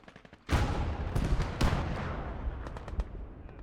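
Tank gunfire in the World War II game Gates of Hell: Ostfront, with a sharp nearby cannon blast followed by a second heavy shot and scattered distant gunfire and crackling as the booms decay.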